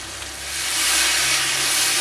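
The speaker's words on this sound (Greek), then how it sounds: "Σοτάρω" Tomato paste sautéing in a hot pan, a steady bright sizzle and hiss that swells and holds loudly throughout.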